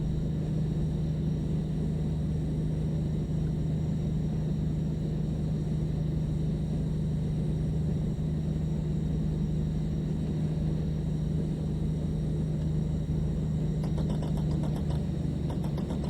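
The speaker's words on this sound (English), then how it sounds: "And the sound of the engine proper in your ear" DB BR 218 diesel locomotive in Train Sim World 4 on the Hamburg–Lübeck line, a constant deep engine rumble heard close from the cab, steady and loud throughout.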